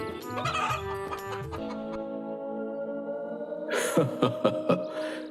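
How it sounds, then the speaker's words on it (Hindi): A rooster close by gives a drawn-out crow, then a burst of sharp, excited clucking, with no voices. "ये मुर्गी नहीं, मुर्गा है, मुर्गा।"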